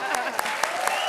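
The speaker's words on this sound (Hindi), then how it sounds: "ताली बजाओ ना फिर।" A studio audience at the Indian TV comedy show Comedy Circus claps in a brief, dense burst of applause, close and lively, with a voice talking over it.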